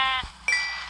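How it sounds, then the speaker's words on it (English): Two short bleats from a sheep in a video game, each with clear harmonics, the first strong and the second a moment later with no talk over them. "Hey, it's that one sheep! Really? Three sheep!"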